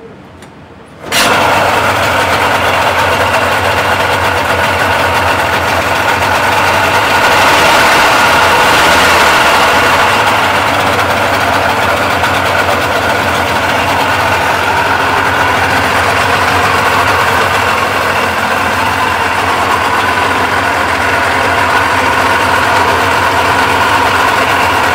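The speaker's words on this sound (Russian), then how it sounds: "Запустили мотор, он шумит." A Yamaha 25 outboard boat motor with dirty oil starts abruptly after a brief quiet moment, then runs at a loud, steady drone throughout with a constant whining, buzzing tone.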